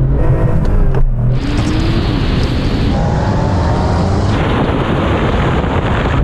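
Porsche 911 Turbo cars, including a 993, launch in a drag race. Loud engine roar and rising revs come with heavy wind buffeting across the microphone, sustained throughout.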